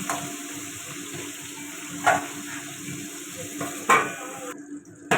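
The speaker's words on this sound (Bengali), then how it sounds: "একদম ভালো করে কড়া করে করে ভেজে নেব যত ভালো ভাজবে ডালের সাথে খেতে ভালো লাগে" Fish head frying crisp in hot oil for a lentil dal, giving a steady hiss with a couple of sharper pops and stirring clatters, close and alone with no talk.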